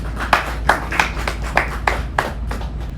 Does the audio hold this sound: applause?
yes